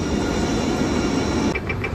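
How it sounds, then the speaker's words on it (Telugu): A train pulls into a station in Jerusalem with a steady, fairly loud rolling rumble; partway through, the sound shifts and faint repeating high tones enter. No one speaks. "ఓకే, నా ట్రైన్ వచ్చేసింది"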